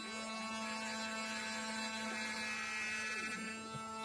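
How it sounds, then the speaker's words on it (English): A homemade CNC mill cuts a mortise into timber for a Japanese-style shoji screen, giving a steady, dense mechanical whine with faint shifting tones throughout, and no voices. "In this part you'll see the machining of a mortise. It'll be done on a CNC mill"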